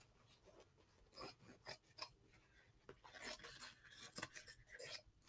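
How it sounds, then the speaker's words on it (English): Scissors cut a denim patch from old jeans, close and fairly quiet, with irregular crunching snips and rustling fabric that grow louder and more rapid toward the end. "So I'm just going to cut out a piece big enough to put behind that hole."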